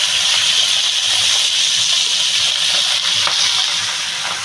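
Chopped tender leafy greens frying in a pan for a Bengali home-cooked dish: a loud, steady hiss and sizzle that runs unbroken throughout.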